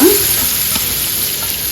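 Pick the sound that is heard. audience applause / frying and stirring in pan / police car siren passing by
frying and stirring in pan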